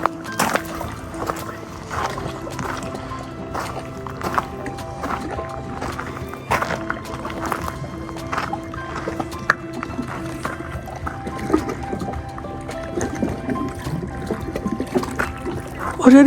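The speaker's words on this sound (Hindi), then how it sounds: "ये जो आवाज़ है ना ये बड़ी इंटरेस्टिंग है, जो पानी आके सॉफ्टली आके रॉक्स के ऊपर लग रहा है" Water of Lake Brienz laps softly against shoreline rocks, a close, irregular run of small splashes and trickles over a quiet lakeside background.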